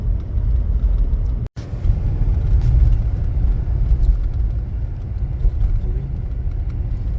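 Road traffic with cars and a tow truck passing after a collision, a loud, steady engine and tyre rumble close by that continues throughout.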